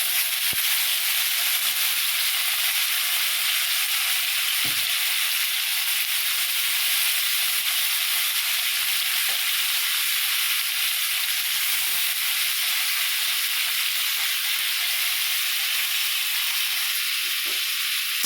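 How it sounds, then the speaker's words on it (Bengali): Bitter gourd and potato fry in hot oil in a wok, giving a steady, close sizzle and hiss throughout, with a few faint knocks of stirring and no talk. "এবার আমরা উচ্ছে আর আলুটাকে দিয়ে ভাজা করে নেব।"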